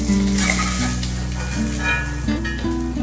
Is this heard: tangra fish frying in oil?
yes